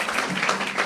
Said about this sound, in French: Acclamons, encouragez-les